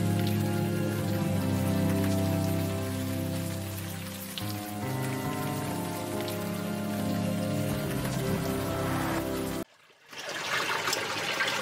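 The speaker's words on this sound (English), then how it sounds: "At least the rain is washing away most of the smell." Steady rain falls in the Unavowed PC adventure game, a constant soft patter layered under a low ambient music drone, with a brief dip near the end.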